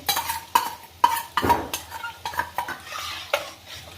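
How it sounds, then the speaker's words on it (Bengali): A spoon stirs halim spice powder into water in a cooking pot, giving rhythmic scraping strokes about twice a second against the metal, close and fairly quiet, with no talking. "আমি এই গুঁড়োটাকে এখন দিয়ে নেড়ে দেব।"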